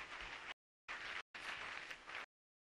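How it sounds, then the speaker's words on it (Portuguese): Applause from a live studio audience for the Chapolin Colorado character in a colour Chaves and Chapolin comedy special, dense steady clapping in three bursts cut by abrupt silences, with no voices. "todos estão aplaudindo essa grande figura que é o Chapolin Colorado"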